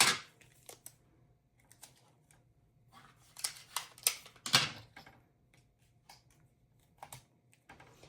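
Transparent tape being pulled and pressed down to hold a strip of iridescent cellophane for die cutting: a run of short, crisp crackles, taps and rustles, close and fairly quiet, in an irregular rhythm.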